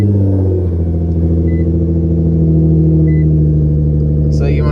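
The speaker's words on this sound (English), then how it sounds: "I'll turn the car on." A 2015 Nissan GT-R engine idles with a steady low rumble after starting, then a brief rising whir near the end, heard close up with no talking over it.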